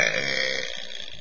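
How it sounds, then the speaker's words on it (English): A person lets out a single loud, long, rasping burp that lasts just over a second and fades toward the end. "I'm not burped out yet."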